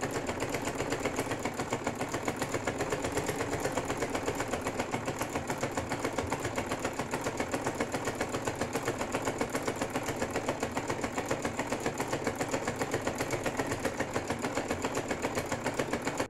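A sewing machine stitches a frill onto a baby frock with a steady, fast mechanical whirr, running continuously at an even level with no talk over it.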